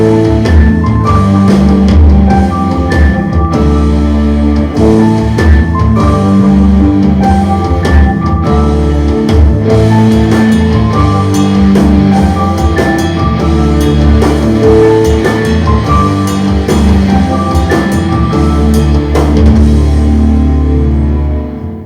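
Piano playing the chorus of a song, with dense, loud chords and melody continuing steadily without a break and no voices.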